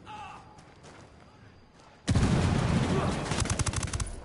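Automatic gunfire erupts suddenly in Ghost Recon Wildlands after a quiet stretch of faint voices, loud and sustained, with rapid bursts of shots toward the end.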